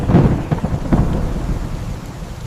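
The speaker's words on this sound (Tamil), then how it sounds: "மழை" Heavy rain pours steadily while low thunder rumbles close by, with a few louder cracks early on and the downpour continuing on its own.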